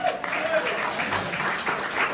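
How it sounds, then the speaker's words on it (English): Applause for the servers at a comedy show in a dinner venue, heard as a short burst of crowd clapping mixed with voices for about two seconds. "Let's have a round of applause for all our servers tonight."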